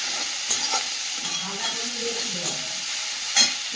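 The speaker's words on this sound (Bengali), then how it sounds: "ভালো করে ভেজে নেবো সবজিটা" Leafy greens sizzle steadily in a hot pan, with a few sharp clinks of a utensil stirring them.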